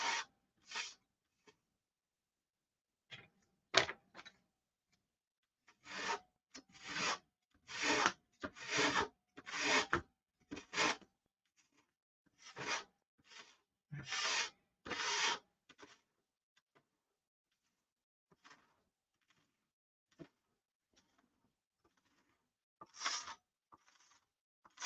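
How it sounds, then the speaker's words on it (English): A wooden beam rib is sanded by hand in short, quiet rasping strokes that come in irregular bursts with pauses between them. "Sand it in, then we can round it over."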